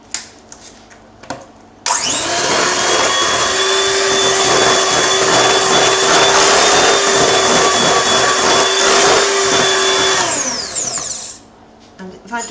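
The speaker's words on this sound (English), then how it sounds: "So beat in the eggs, we're going to beat them in one at a time." An electric hand mixer beats eggs into fruit cake batter for apricot fruit cake, running loud and steady for about eight seconds with a whining pitch before winding down, preceded by brief clatter.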